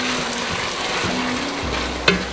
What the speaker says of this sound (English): You just keep stirring that.